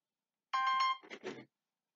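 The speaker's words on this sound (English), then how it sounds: "my phone rang" A phone rings once in a quiet indoor room: a short bright tonal chirp followed by a buzzier burst, lasting about one second and surrounded by silence.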